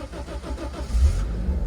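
A Daihatsu Mira turbo car engine starts up close by: a brief rhythmic starter crank, then the engine catches into a loud, low idle rumble, all within a couple of seconds.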